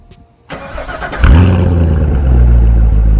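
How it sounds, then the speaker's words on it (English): A 2022 Volkswagen Jetta GLI starts up: a brief click, a crank, then the engine catches with a loud burst and settles into a strong, steady idle close to the microphone. "Before I take you inside the car, let me give you a quick startup."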